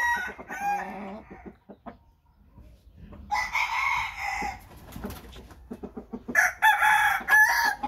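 An American Asil rooster crows loudly and nearby several times, with clucks and short calls between, while someone talks in the quieter gaps.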